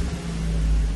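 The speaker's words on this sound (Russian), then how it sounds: "двигатель запускается" A Ford Focus 2 engine turns over and catches after a Starline remote autostart, a loud low rumble that swells and settles into a steady running drone, with no voices.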